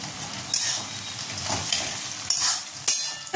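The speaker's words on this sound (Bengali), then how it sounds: "এখন এতে দিয়ে দেবো কেটে রাখা টমেটো" Chopped tomato tossed into onions already frying in a pan, giving a steady close sizzle with stirring scrapes and a few sharper bursts of spatter.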